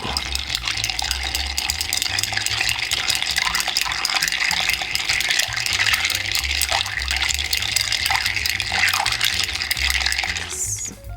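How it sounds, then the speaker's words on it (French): Ice clinking and swirling as a Byrrh cocktail is stirred with a bar spoon in a mixing glass, a continuous bright rattling churn for about ten seconds, close and fairly loud, ending with a short sharp clink. "on mélange le tout à la cuillère durant 10 bonnes secondes"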